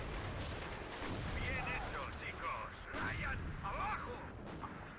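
Artillery and gunfire from the real-time strategy game WARNO: a dense, continuous wash of distant battle noise with scattered shots and rumbling blasts, a voice talking over it.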